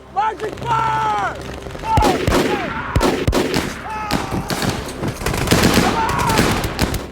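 A battlefield with infantry using marching fire: rapid bursts of gunfire and heavy booms layered with shouted commands and whistling, dense and loud throughout.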